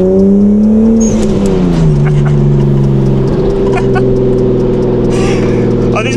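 A Nissan Skyline R34 with a titanium exhaust idles and revs to around 3,000 RPM, a loud deep burble that rises and settles in pitch, with faint background chatter.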